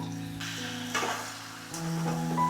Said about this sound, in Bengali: চিকেনটাকে ভালো করে কষিয়ে নেব।